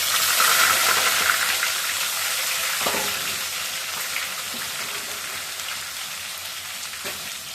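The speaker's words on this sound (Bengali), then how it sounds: "তো এবার আমি ফোড়ন দিয়ে দিব, ছোলা রাস্তা বাড়ানো নাই, ফোড়নে দিয়ে দিব আদা" Ginger frying in hot tempering oil in a home kitchen pan, giving a steady loud sizzle throughout, with a few soft clinks and stirring knocks.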